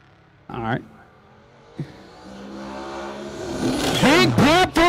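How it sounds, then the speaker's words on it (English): A turbocharged 1963 Chevrolet Nova drop-top drag car pops once near the start of a no-prep street drag race. Engines then rev and climb, ending in loud roaring pulls, with an announcer talking over it. "You hear the car pop."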